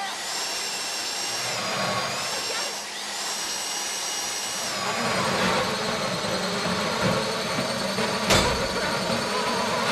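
A drill whirs steadily during a heist in the video game GTA 5 Online, its whine shifting in pitch over a low hum while a player talks excitedly over it.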